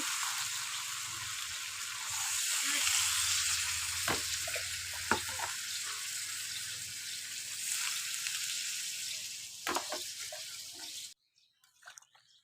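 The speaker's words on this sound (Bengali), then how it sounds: "ভালোভাবে কাঁঠাল আলু ভালোভাবে আমি মশলার সাথে কষিয়ে নিলাম কাঁঠালের থেকে তেল ছেড়ে দিচ্ছে" Raw jackfruit and potatoes fry in oil and spices for a Bengali curry, a steady close sizzle with occasional stirring clinks, which cuts off abruptly near the end.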